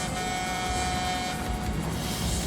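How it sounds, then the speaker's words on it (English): A train approaching in a Mission: Impossible action scene, a loud continuous rumble with sustained tonal horn-like hum, steady and close. "There's a train coming the other way."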